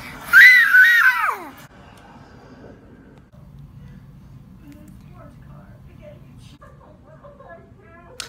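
A child gives a short, loud, high excited scream, close by, then it drops to quiet room noise with faint scattered sounds.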